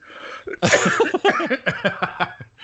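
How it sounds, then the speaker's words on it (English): A person coughs in a rapid, ragged run of close, loud hacks after a short breath, the fits tumbling together. "that made me laugh so hard I'm coughing"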